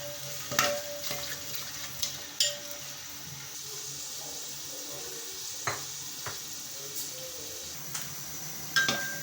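Finely chopped onions frying in ghee until golden for chana pulao, a soft continuous sizzle with occasional clinks and stirring scrapes from a utensil against the pot.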